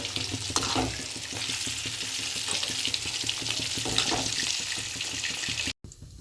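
Fish fries in a pan in a village kitchen, a loud, continuous sizzle and crackle with occasional stirring clinks, cut off briefly near the end.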